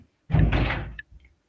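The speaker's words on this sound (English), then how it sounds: "Will you close the door, please?" A door swinging shut in a home, one solid thump with a brief rattle, then a faint latch click, close and loud against silence.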